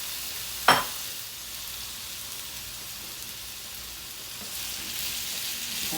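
Rice frying in oil and butter in a pot, a steady close sizzle with a sharp clink near the start and the hiss swelling slightly toward the end, no talking.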